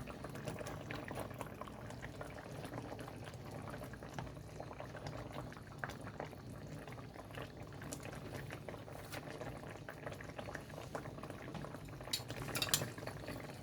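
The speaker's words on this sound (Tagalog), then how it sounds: "Kulo-kuloan din natin guys ang patis." Beef with fish sauce boils in a pot, a low, continuous bubbling and gurgling simmer heard close, with faint clinks of utensils near the end.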